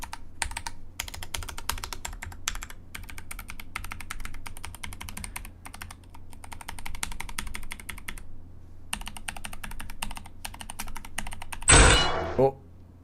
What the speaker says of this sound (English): I was busy mashing keys